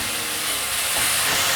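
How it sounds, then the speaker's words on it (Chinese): Enoki mushrooms stir-frying in a hot pan give off a steady, close, loud sizzling hiss with no voices over it. "把金针菇炒成金黄色"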